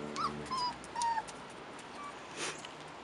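Rottweiler puppies about four and a half weeks old whimper and yip in short, thin, high-pitched cries, several close whines in quick succession over a soft background hiss.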